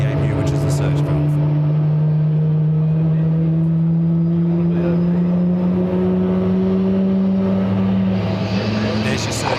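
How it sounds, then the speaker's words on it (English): An aircraft APU at an airport spooling up to idle, with a steady loud turbine whine rising slowly in pitch and a broad rush of air venting from its surge valve at the back, continuous and close. "we'll hear the sound rushing from the back of the APU, which is the surge valve"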